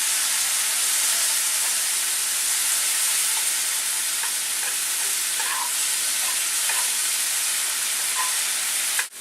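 Diced tomatoes cook in a pan with a loud, steady close sizzle and hiss that holds evenly throughout, with faint occasional pops and scrapes, then cuts off sharply at the end.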